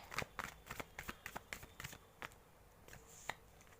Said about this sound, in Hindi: let me pull some more cards for this person